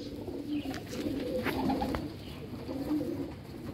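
Domestic pigeons cooing in a loft, with soft repeated low coos carrying on steadily at moderate distance against light background noise.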